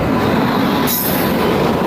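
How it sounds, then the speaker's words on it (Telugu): A long-distance train from Lucknow rolls into the platform at Dharmavaram station, a loud, close, continuous rumble of rail wheels with a brief high squeal midway. "ఆ ట్రైన్ అయితే ప్లాట్ఫామ్ మీదకి వచ్చేసి"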